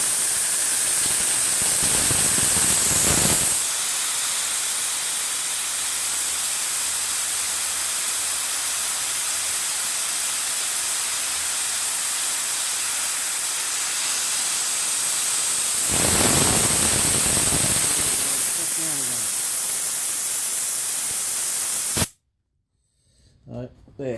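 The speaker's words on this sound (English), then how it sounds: "I'll blow some cold air on it." Cold air sprayed onto a Pajero oil cooler regulator valve makes a loud, steady hiss that swells in two stronger blasts before stopping abruptly into near silence.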